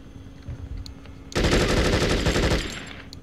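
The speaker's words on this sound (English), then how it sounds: "I love the fully automatic AK" Fully automatic AK rifle in the video game Conflict Desert Storm, one loud continuous burst of rapid fire lasting about a second, following a quieter background of game ambience.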